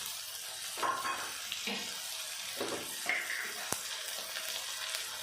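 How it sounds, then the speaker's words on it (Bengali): Ginger garlic paste frying and sizzling in a pan for palak paneer, a steady close hiss broken by a few stirring scrapes and one sharp tap of a utensil. "দিয়ে দেবো আদা রসুন পেস্ট"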